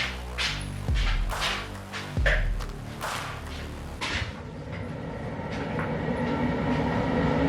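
A steady, loud mechanical roar of a pottery kiln room's ventilation extraction fan fills the room, with low humming rumble and occasional clanks and thumps over it.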